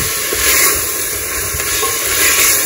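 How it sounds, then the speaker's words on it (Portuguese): Seasoned meat sautés in a pan with a loud, continuous close-up sizzle and hiss, marked by occasional light stirring knocks and no talking. "Eu acho que refoga bastante."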